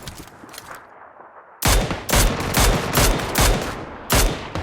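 Sharp gunshots ring out in PUBG Lite, a series of about six loud single cracks at a steady rhythm, preceded by a quieter stretch of fainter shots.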